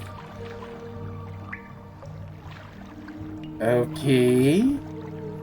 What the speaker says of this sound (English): What's with the bubbling?